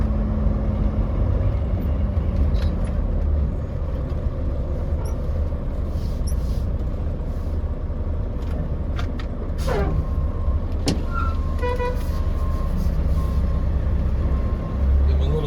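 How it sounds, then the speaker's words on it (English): A semi truck backs into a loading dock, its engine a loud steady low rumble throughout, with faint airy hisses and a few tonal squeals of brakes or mechanism near the end. "And we're going to back in right here at the very last set of docks."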